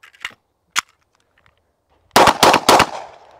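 Several sharp gunshots from a Hi-Point YC9 9mm pistol fired outdoors: two isolated shots with a pause, then a quick burst of three or four loud cracks with a short echoing tail.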